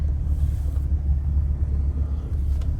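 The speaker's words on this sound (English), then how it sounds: "He's trying to cycle the vehicle now." Vehicle engine idling and being cycled while stuck in a puddle, with the winch broken, producing a steady low rumble that holds throughout, close and fairly loud, with some wind noise on the microphone and no talking.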